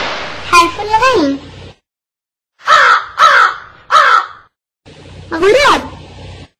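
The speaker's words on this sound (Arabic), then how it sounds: "غراب" A crow gives three loud, harsh caws in a spaced row, close and clear, with speech before and after.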